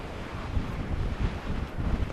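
Strong gusts of wind on a Scottish mountain summit near Lochnagar buffet the microphone in rough, low rumbling surges, loud and close, with no voices.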